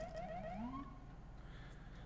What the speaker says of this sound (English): We have the temporary siren, just a little whoop whoop. It's as long as I hold it